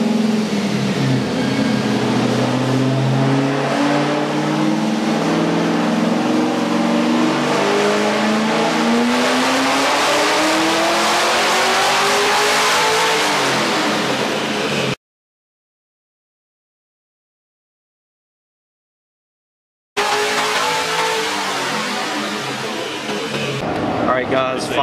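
A supercharged 2015 Chevy Camaro engine revs up steadily on a dyno through a long, rising pull, loud and sustained, then cuts off to silence before another roar resumes.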